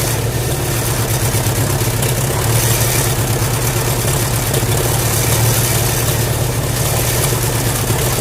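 The engine of a 1938 Allis Chalmers B tractor runs steadily close by after a cold start, a loud, even low-pitched chugging idle that continues without a break.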